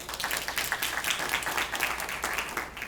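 A forum crowd claps for Ben Siegel of the U.S. Department of Labor at a nonprofit event hosted by Congresswoman Edwards, a continuous patter of many hands with crisp individual claps poking through, even in loudness and free of talk.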